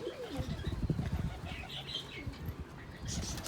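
Young pigeons, out of their loft for the first time, give soft low cooing calls close by, with brief flutters of wings and a few faint chirps in between.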